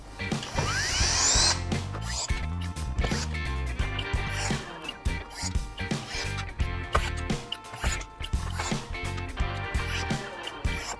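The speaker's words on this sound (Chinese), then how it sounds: "锁上螺丝固定它。" Screws being driven to fasten Corsair fans inside a PC case, giving a run of short, repeated mechanical whirring and clicking bursts with a steady background through most of the stretch.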